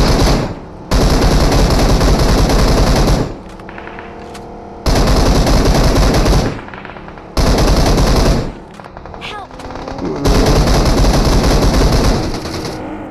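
Bursts of machine gun fire in the battle royale game PUBG, loud sustained volleys of several seconds each separated by short gaps with quieter game sounds and faint voices.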